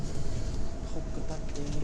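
A train rumbles and clatters while pulling into a Shinkansen station on a trip from Tokyo to Sapporo, a low, continuous rolling rumble heard nearby with faint higher squeaks over the top.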